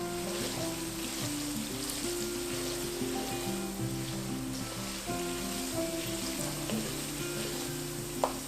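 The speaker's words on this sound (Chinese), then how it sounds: "倒入一点植物油，我们先把豆干煸到金黄酥脆" Dried tofu fries in vegetable oil in a wok, a constant dense bubbling sizzle close by, with occasional light stirring clinks and one sharp knock at the end; no one talks.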